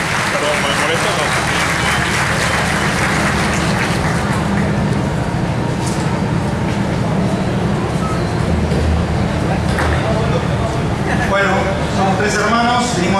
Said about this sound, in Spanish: Un aplauso, vamos, vamos, vamos, vamos.